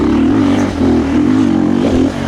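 A Triumph TF450-C dirt bike engine drones steadily at low revs in third gear, loud and close, with a slight dip and rise in pitch as it holds gear.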